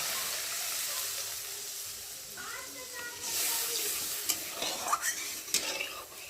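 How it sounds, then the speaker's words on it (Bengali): Mustard gravy for pabda fish bubbles and sizzles in a pan, a soft continuous simmer with clinks of a utensil and brief stirring scrapes toward the end. "ঝোলটা ভালোভাবে ফুটে গেছে, দেখতে পাচ্ছ"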